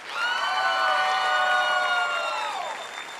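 Pageant audience at the Mrs. United States Pageant 2015 bursts into sustained applause mixed with cheering and high shouts, steady and loud throughout before easing slightly at the end.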